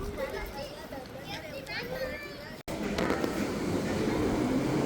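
Small ride-on train at a strawberry farm rumbling along under constant chatter of children and adults, with a brief cut midway and louder clattering afterward.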